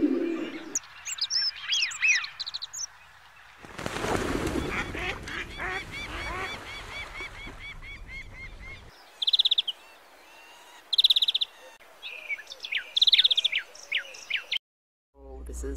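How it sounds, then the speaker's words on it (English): Lesser snow geese honk and call across a bird sanctuary in winter, a dense flock chorus with bursts of sharper nearby honks rising above the steady background of many birds. "it's sort of the winter home of the lesser snow geese"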